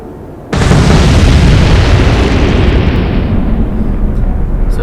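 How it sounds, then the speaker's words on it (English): Torpedo explosions in the naval video game Atlantic Fleet: after a short lull comes a sudden, massive roaring blast that holds loud and rumbling for several seconds before slowly thinning. "here come the torpedoes"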